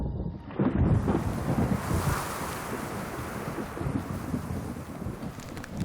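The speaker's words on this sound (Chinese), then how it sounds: "4月中旬，天气突变，大风伴随降雨，花期提早结束。" Strong mid-April wind sweeps the Qinling mountains in a continuous rushing roar, buffeting the microphone with heavy gusts, and nothing else stands out.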